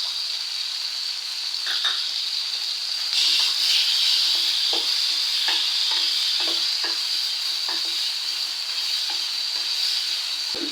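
Dried red chillies and cumin seeds frying in hot oil for brinjal curry, a steady bright sizzle throughout with occasional spoon stirs and scrapes against the pan, close and continuous, no voices.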